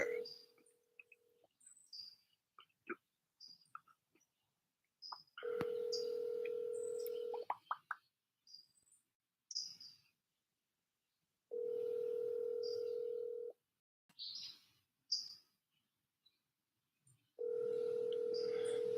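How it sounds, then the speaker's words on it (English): A telephone call placed to check on someone: the ringback tone sounds in steady, evenly spaced bursts of about two seconds with silent gaps, preceded by short dialing blips, with faint bird chirps in the background. "Phone's ringing."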